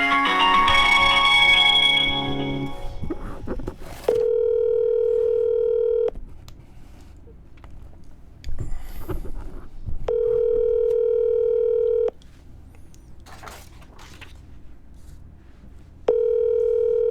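Telephone dial tone while calling a reporter, repeating steady ringback beeps in regular two-second pulses separated by pauses, clear and alone after a brief louder tone at the start.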